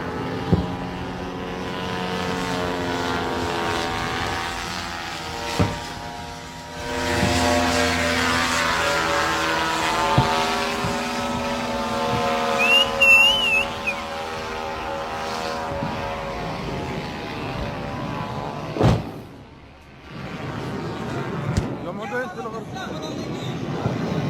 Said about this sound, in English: Footage of a Hamas infiltrator using a motorized hang glider to get into Israel.